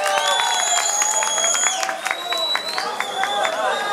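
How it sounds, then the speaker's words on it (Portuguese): A nightclub crowd at Danger Dance Club claps and cheers during a drag performance, dense applause with whistles and shouts, and voices mixed into the din. "vamos aplaudir pra dar incentivo"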